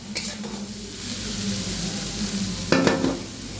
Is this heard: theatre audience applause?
no